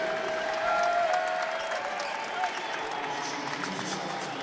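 Crowd applause fills a college basketball arena during a Louisville vs. Boston College men's game, a steady mid-level wash of clapping with slight swells, heard at a distance.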